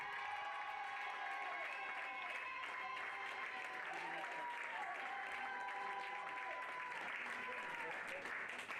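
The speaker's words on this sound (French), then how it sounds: "On les applaudit," Crowd applauding a pony games bronze medal team at a prize-giving ceremony, steady clapping held under a voice speaking over it.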